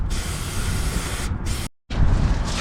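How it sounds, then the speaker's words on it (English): Silicone lubricant is sprayed from an aerosol can onto a car chassis. A loud, close, continuous hiss is cut by one short pause, then the spray resumes. "Just go at it with the silicone spray."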